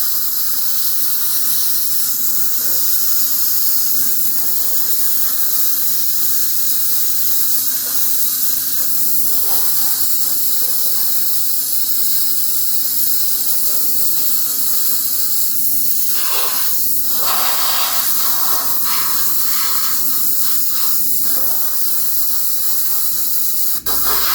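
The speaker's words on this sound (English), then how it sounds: "You got to kind of spray from all angles to get paint in all the little areas." Spray paint hisses steadily and loudly from an aerosol can onto a quarter-scale Samurai Wolverine figure, a continuous close hiss with brief pauses and shifts as the angle changes.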